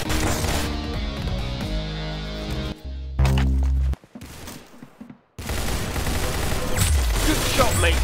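Gunfire in a shooting video game, loud crashing bursts and rapid shots layered over dense game noise and music, with a short quieter gap before the din resumes.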